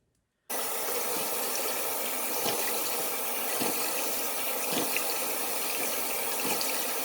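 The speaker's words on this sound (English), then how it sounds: "All right, it is time to wash it off." Water running steadily from a tap into a sink while a clay face mask is being rinsed off, a constant close splashing flow that starts abruptly after a brief silence, with soft splashes from hands and no talk.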